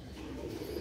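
A Sialkoti pigeon gives a single short, soft, low coo, faint and close.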